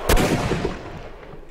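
A single loud gunshot in Sherlock Holmes: Crimes & Punishments, a sharp crack followed by a short booming, reverberant tail.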